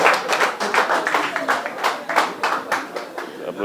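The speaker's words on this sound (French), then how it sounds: "Applaudissez ce monsieur-là." Audience applause at a televised business-training event, a dense patter of hand claps rising and falling steadily throughout, close and fairly loud with voices mixed in.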